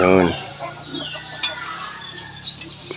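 Kangkong (water spinach) sautéed with onion in a pan, a few soft stirring scrapes and light clinks of a utensil against the pan over a quiet background, with a brief voice at the very start.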